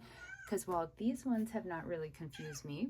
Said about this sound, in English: oh sorry, that's just the cat